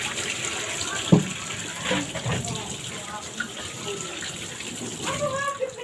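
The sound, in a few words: shrimp paste (alamang) being washed under running water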